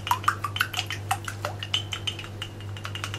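An egg yolk mixed with about two teaspoons of water, beaten in a bowl: quick, light clinks and scrapes in an irregular rhythm, close by, over a steady low hum.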